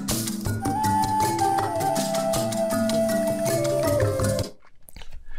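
A busy world music track with percussion and a sustained melodic line plays loudly, then stops abruptly, leaving faint background noise.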